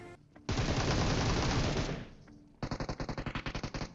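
Gunfire in a shooting video game: a sustained burst of automatic fire, a short pause, then a rapid rhythmic string of individual shots.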